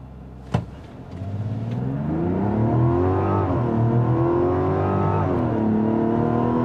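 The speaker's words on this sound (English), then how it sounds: "I really like the sound coming from the engine" A 2025 Mazda CX-70 Turbo S turbocharged inline-six engine revs up in sport mode and pulls hard, its smooth rising drone climbing through gear shifts, loud and close, with a brief click at the start.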